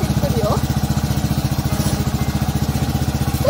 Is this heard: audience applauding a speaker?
no